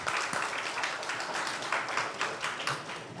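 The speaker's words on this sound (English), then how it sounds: "Can you give them a big round of applause" Audience applause for the industrial economists' representative at an IMA Chennai leadership address, a moderate, scattered patter of many hands clapping, fairly faint and steady for a few seconds.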